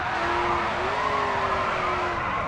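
Car tires screeching in a steady drift in the racing game GRID 2, a loud sustained squeal over a revving engine lasting a couple of seconds, no talk.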